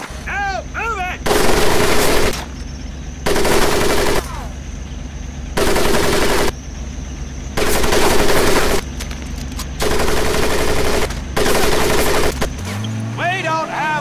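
Bursts of heavy automatic gunfire from the World War II video game Medal of Honor: Pacific Assault, set in 1941 Marine boot camp at MCRD San Diego, come in regular rattling volleys over a low rumble, with shouted voices between bursts.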